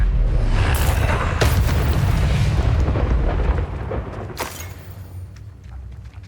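Confringo fire spell explosions in the Hogwarts Legacy video game, heard as deep booming blasts with sharp bursts that rumble and fade toward the end.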